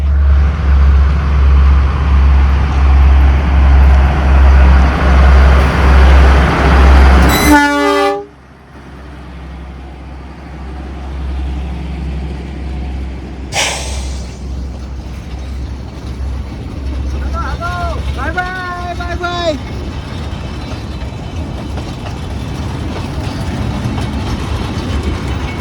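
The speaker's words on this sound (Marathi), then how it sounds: "आणि समोरून आलेली आहे ट्रेन" A train passes on an adjacent track from the opposite direction, heard from inside a moving train: a loud rolling rumble and a brief horn blast, then a sudden drop to quieter cabin noise with faint horn toots later.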